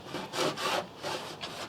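A metal blade saws through wood while fitting overhead cupboards in a camper van build, giving four rasping back-and-forth strokes close by, each a raspy burst separated by short gaps.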